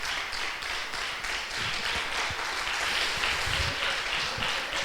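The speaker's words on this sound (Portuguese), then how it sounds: "Vamos aplaudir o nome do Senhor." A church congregation claps together in praise, a dense, sustained wash of many hands at moderate distance, slightly swelling toward the end.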